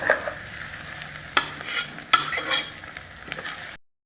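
Crab masala base with green chillies sautés in a pan, a soft frying hiss broken by a few sharp spoon scrapes and stirs at close range before falling silent.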